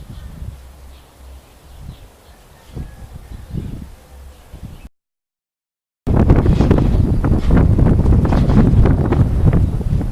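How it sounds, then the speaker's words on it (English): Strong gusting wind roars outdoors beside a home workshop, first as low buffeting rumbles, then after a brief silence as a loud, continuous blast battering the microphone, with no talking. "I like being outside, but man, this wind bites."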